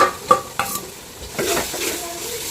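Spices and ginger garlic paste hit hot oil while chicken biryani is being cooked, giving a close hiss of sizzling with stirring and scraping strokes against the pot, strongest in the first second before settling.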